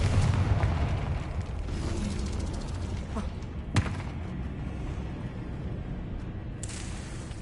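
Confringo blasting spell explosions in the Hogwarts Legacy video game, a sharp burst near the middle over a dense, rumbling battle din with no talk.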